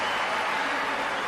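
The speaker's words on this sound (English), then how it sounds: "listen to how the crowd respond" A crowd cheering and applauding after a dive in the London 2012 Olympics video game, a steady, dense wash of broadband noise lasting the whole moment with no distinct break.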